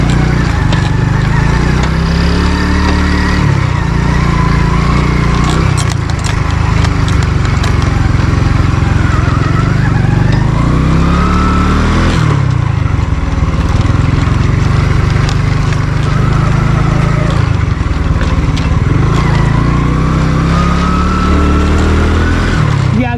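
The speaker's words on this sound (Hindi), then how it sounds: "मुश्किल है मोटरसाइकिल चलाना इधर रेत के ऊपर" A motorcycle rides over sand, gravel and dirt near the Malir Expressway in Karachi, its engine droning steadily and close throughout, with rough, shifting rumbles as the surface changes.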